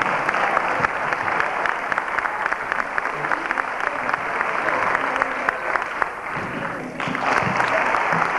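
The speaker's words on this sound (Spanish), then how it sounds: "Otro aplauso y empezamos." Audience at a 1994 jazz festival applauding, a dense sustained clapping from a sizable crowd that dips briefly near the end before swelling again.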